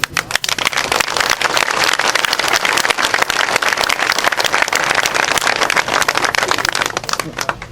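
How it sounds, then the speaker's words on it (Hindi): Loud, sustained applause from a large crowd at a political rally, dense clapping filling the whole stretch with scattered louder claps and crowd noise throughout. "तो इतनी तालियों से काम नहीं चलेगा।"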